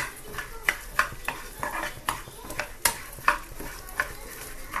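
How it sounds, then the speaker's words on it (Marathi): Coriander seeds roasting in a little oil for a peanut chutney, with a spoon scraping and clinking against the pan in quick repeated strokes over a soft, close sizzle. "थोडंसं तेल टाकायचं धन्यामध्ये पण. भाजून घ्यायचं"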